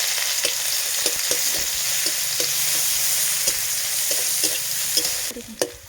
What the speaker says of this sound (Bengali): তো এই যে দেখতে পাচ্ছি পেঁয়াজটা আমার ভাজা হয়ে গেছে।